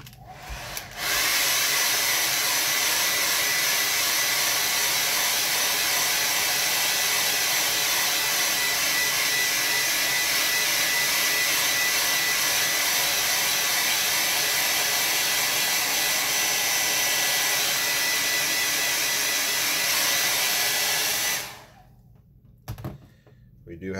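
A hair dryer blows close by at full power onto a wet watercolor landscape painting, a loud steady roar that starts abruptly and holds for about twenty seconds before clicking off, with faint handling noises after.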